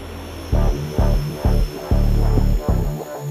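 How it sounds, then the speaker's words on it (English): A propeller aircraft comes in to land at the Nain airstrip on a windy northern coast, its engine droning loudly in repeated surging pulses, with no voices. "We're not the only flight landing in Nain this morning."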